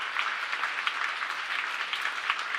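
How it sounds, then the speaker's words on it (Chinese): A church congregation at an anniversary thanksgiving service applauds its small-group leaders, steady moderate clapping from a roomful of people, slightly distant and even throughout. "我们给他们鼓掌。"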